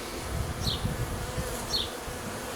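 Honeybees on hive frames, drones among them, hum in a continuous close buzzing drone, with a couple of brief higher whines as bees fly past.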